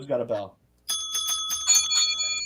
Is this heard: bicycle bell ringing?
yes